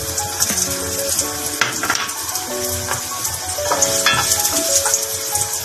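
Garlic sizzles and fries steadily in a hot pan for Japanese chicken curry, with a few scattered metallic clinks of a utensil against the pan over a continuous bright crackle, close and fairly loud.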